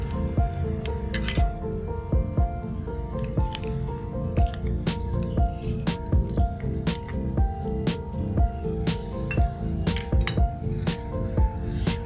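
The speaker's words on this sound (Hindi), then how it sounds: "2 चम्मच जितना ये जो मैंने ग्राइंड किया था अमरूद के पत्ते और नीम के पत्तों। ठीक है फ्रेंड्स, ये मैं इसके अंदर ऐड कर रही हूँ।" Ground guava and neem leaves are stirred into a wet hair paste, giving steady squishy, dripping mixing sounds with small clinks of a spoon against a container, close up and without talk.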